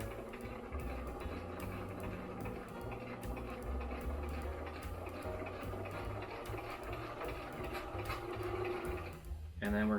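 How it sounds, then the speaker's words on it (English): A sewing machine runs steadily while stitching the hem of a fabric face mask, a continuous close mechanical whir with rapid rhythmic ticking, stopping abruptly near the end. "Again, make sure to backtrack so that that thread locks in."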